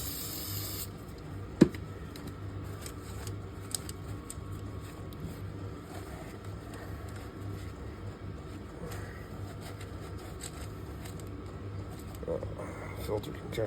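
An aerosol spray hisses steadily while cleaning out Can-Am 1000 motor parts, a fairly quiet continuous spray with a brief sharp click near the start.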